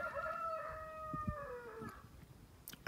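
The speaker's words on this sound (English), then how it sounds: "we seem to have got a cockerel" A cockerel crows once from a distance at a rural campsite in Kent, UK, a faint drawn-out call that trails off, with quiet background noise around it.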